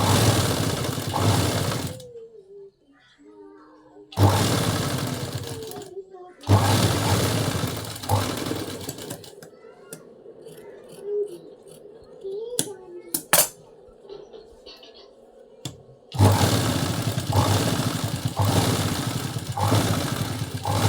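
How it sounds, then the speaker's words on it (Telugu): Sewing machine stitching a blouse runs in loud close bursts of a few seconds each, a fast rhythmic mechanical whir, with quieter pauses in between where small handling clicks and faint background sounds are heard. "అటాచ్ చేసేసాను అండ్ పైనుంచి ఒక స్టిచ్ అయితే వేసేసాను."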